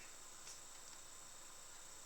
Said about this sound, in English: I feel like the crickets are super loud outside.